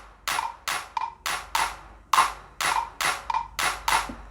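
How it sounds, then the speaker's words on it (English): A modern 808 clap-style drum hit from GarageBand for iOS, used in an Afrobeat beat, repeats in a steady rhythm of sharp, bright snaps, close and punchy with no voices. "and that's it there, modern 808."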